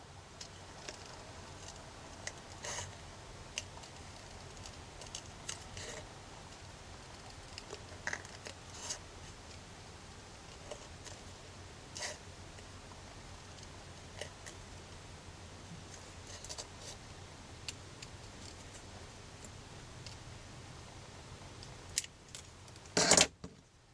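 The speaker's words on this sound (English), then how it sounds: "you just go on a little meandering tour as you cut into your circle" Scissors snip through a thin recycled metal can, cutting a meandering path into a circle, with scattered crisp clicks and small crunches over a quiet background and a sharper clatter near the end.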